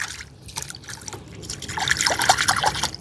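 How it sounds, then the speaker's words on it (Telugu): Water runs from a canal into a village stream swollen by an overflowing tank, making a close, continuous trickling and babbling that grows fuller and louder toward the end, with no voices. "ఒక్కటే కాలువ చెల్లో నుంచి నీళ్ళు ఏట్లోకి వస్తున్నాయి"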